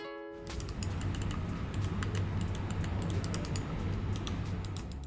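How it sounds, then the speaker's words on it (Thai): A Loga Kirin Pro wireless gaming mouse is clicked over and over, giving rapid, light, crisp clicks in uneven bursts over a low background hiss. "การคลิกเมาส์ดีเลยทีเดียวครับ"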